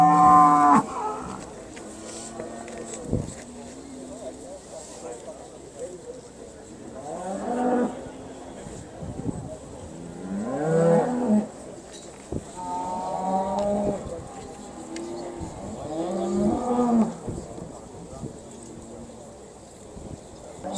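Aberdeen Angus cattle moo at the National Summer Show in Turriff, with about five loud, drawn-out lows spaced several seconds apart over light wind noise and faint background voices.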